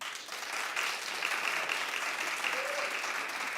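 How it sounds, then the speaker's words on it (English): A studio audience at a daytime talk show claps together in a steady, moderately loud wash, with no speech over it. "clap if you watched last night"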